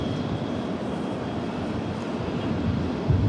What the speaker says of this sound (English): that Los Angeles Max 8 takes off in the background